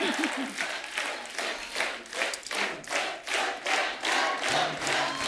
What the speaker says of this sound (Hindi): तालियां मेरे लिए, तालियां